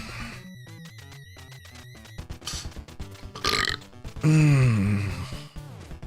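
A long, loud, deep burp rumbles alone after a stretch of bright chiptune music from the NES game Teenage Mutant Ninja Turtles, rising in volume and dragging on for more than a second.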